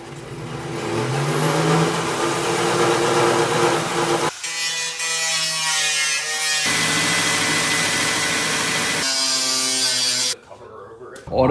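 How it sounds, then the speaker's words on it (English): Loud whine of a power drill drilling a hole in a Volkswagen GLI hood, running in long bursts with brief pauses, close by, then a short stop and restart near the end. "Time to drill the hole."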